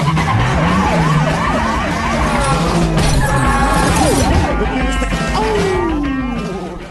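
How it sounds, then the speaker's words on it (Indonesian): Police cars chase a getaway car in the film Baby Driver, with loud screeching tire skids and wailing sirens over a dense roar of engines and crashes, the skids sweeping up and down throughout. "datanglah beberapa mobil polisi hingga terjadi aksi kejar-kejaran"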